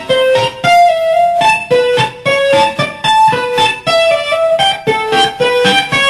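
A classical-style guitar passage played with finger picking, with clear separate plucked notes that skip between intervals in a steady, quick, close rhythm.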